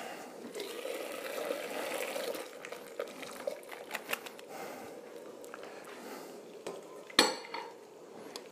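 Fresh spinach and ricotta ravioli going into a pan with butter and sage, giving soft clinks of utensils against cookware, light handling noises and a sharper knock near the end, all close by with no talk.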